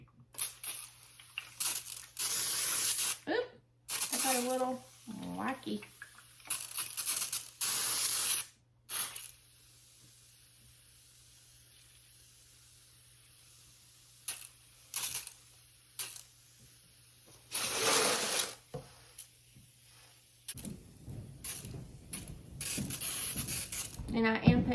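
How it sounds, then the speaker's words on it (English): A hand sprayer mists water lightly onto seed-starting soil for alpine strawberry, foxglove and coleus seeds indoors: short hissing bursts repeat with pauses, sometimes quick in succession, while someone talks briefly between them. "And now I'm just gonna lightly spray."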